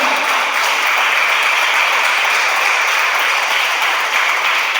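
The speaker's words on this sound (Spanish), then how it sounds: "una ofrenda de palmas al Señor" A church congregation gives an offering of claps to the Lord, a loud, continuous wash of dense applause holding steady from start to finish with no talk.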